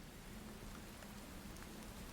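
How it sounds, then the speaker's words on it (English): Steady rain falling, a dense even hiss of drops on a surface with a low rumbling undertone, constant and enveloping throughout with no voices. "and the falling of rain"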